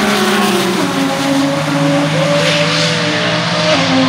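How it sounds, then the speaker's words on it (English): Drag race cars doing a roll race down a quarter-mile dragstrip, a loud continuous engine roar with rising and shifting pitch that stays strong throughout, no talk over it. "roll race going on."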